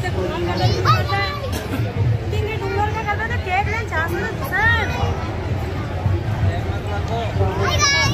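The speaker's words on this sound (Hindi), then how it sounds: "भीड़ देखिए यहाँ पर कितनी बड़ी लाइन है।" Crowd waiting in a long queue for prasad at a Sai Laddi Shah birthday celebration, a steady dense hubbub of many voices, with people talking continuously nearby.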